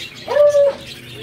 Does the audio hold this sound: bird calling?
yes